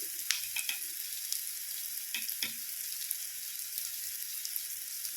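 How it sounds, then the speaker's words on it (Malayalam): Masala puttu mixture with pepper powder and garam masala sizzles and fries softly in a pan, a steady hiss with a few light clicks of stirring. "ഇതെല്ലാം കൂടെ നല്ലതുപോലെ മിക്സ് ചെയ്യും."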